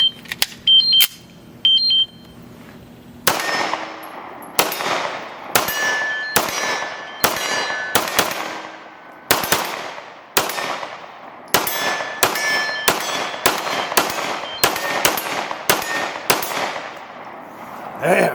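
Kimber 2K11 9mm pistol fired at steel targets outdoors, a rapid string of about fifteen sharp shots each answered by a ringing metallic clang, loud and close, with short pauses between groups.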